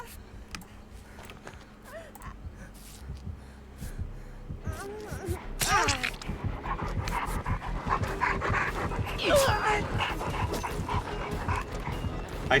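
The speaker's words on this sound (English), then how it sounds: "That is a dog that is on top of me." A dog pants and whimpers close by, soft breathy panting and small whines over a constant background hum, getting busier and louder in the second half.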